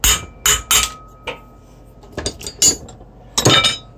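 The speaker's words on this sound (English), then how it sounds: "Don't recommend that you hammer on the inside race, but if you have to." A small hammer taps metal on the race of a recycled ebike hub motor bearing, several sharp ringing clinks in uneven bursts of two or three, close and loud, with no talk.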